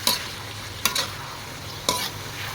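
Food is stir-fried in a pan, a steady close sizzle of frying punctuated by three sharp scrapes of the spatula against the pan.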